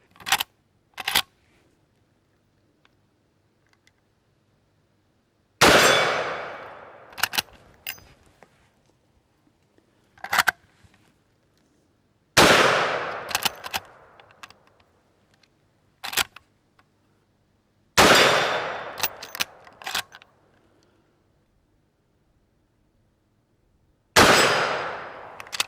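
Outdoor shots from a Winchester 94 lever-action rifle chambered in .357 Magnum: four sharp, loud reports about six seconds apart, each trailing off in a short decay, with lighter mechanical clicks between them.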